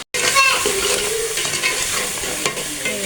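Spice masala is stirred in a frying pan, giving a close, steady sizzle with scraping stirs and a brief clatter near the end.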